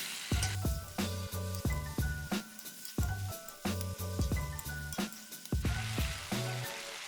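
Ingredients for an Assamese drumstick and climbing perch fish curry, with mustard, sizzle and fry in a pan while a utensil stirs them. Sharp scraping clinks keep returning over a steady close frying hiss, with no talk.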